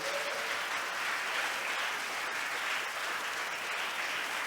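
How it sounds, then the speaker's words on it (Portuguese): Church congregation applauding during a sermon, a thick, even wash of clapping from many people, steady and unbroken for the whole stretch. "Dá um aplauso para Ele."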